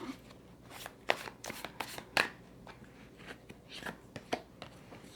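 Tarot cards are shuffled and laid out by hand, giving soft, brisk papery flicks and slaps in an irregular rhythm, close and fairly quiet.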